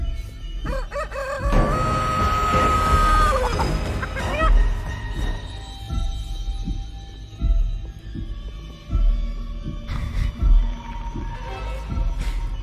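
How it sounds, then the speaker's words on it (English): Eerie soundtrack from the horror video game Chicken Feet, with a sustained synth tone, rising swells and low thumping pulses, mixed with clucking and crowing chicken sound effects throughout, loud and without voices. "Listen to this horror music."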